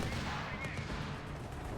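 A grenade assault in Company of Heroes 3 comes through as a dense, muffled wash of rapid game gunfire and explosions, fairly faint and continuous, with a commentator's voice partly mixed underneath.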